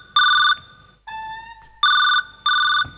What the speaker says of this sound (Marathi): फोन लावा आता रिंग वाजला